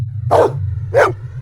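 A dog gives two sharp, close barks about half a second apart over a low steady hum, with no one speaking.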